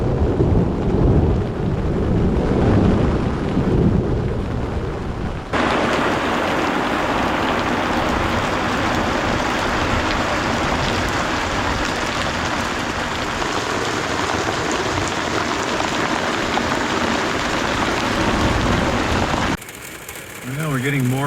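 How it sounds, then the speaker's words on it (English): Heavy rain pours down in the Colorado backcountry in a dense, loud hiss that intensifies partway through, with low rumbling underneath and occasional voices. "rain's getting heavier"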